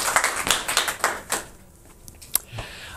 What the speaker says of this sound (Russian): Аплодисменты в зале